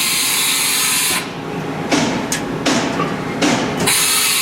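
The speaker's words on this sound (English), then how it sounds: "Got a small program we're running, a couple tool changes." A 2000 Haas Minimill vertical machining center runs a small program, a loud continuous hiss and whine broken by several sharp shifts and clunks as tools change.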